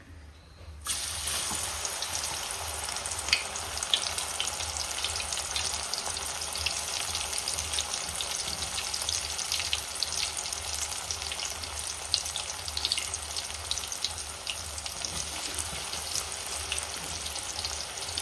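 Chips frying in coconut oil in a pan, a steady close sizzle with crackling pops that carries on unbroken, fairly quiet overall, with no talking.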